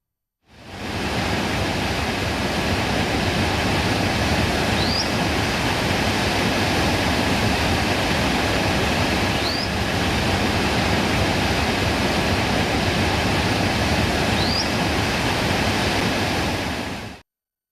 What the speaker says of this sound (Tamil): ஆற்றில் தண்ணீர் கரை புரண்டோடுகிறது